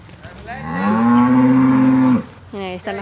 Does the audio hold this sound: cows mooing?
yes